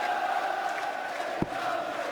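Darts crowd at the PDC World Grand Prix 2015 quarter-finals, Robert Thornton against Ian White, making a steady, loud arena roar of voices throughout, with one brief thump partway through.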